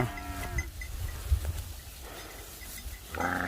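A herd of about 200 cattle out in a field, with several low, drawn-out moos from different animals at varying distances over a rough, breezy outdoor background.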